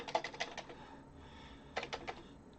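Bursts of quick typing on a Commodore 64 keyboard, a cluster of clicking keystrokes, a pause, then another short flurry of taps, fairly quiet and close.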